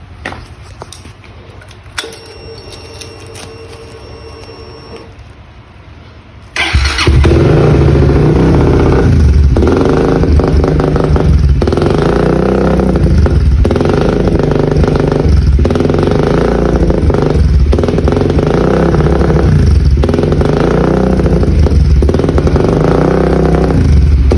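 A motorcycle engine with a newly replaced spark plug fires up after several quiet seconds, then runs loud and close with repeated revs throughout.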